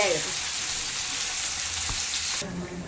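Fish frying in a pan, a steady close hiss of hot oil that carries on evenly and then drops off near the end.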